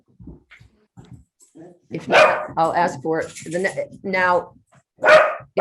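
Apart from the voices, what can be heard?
dog barking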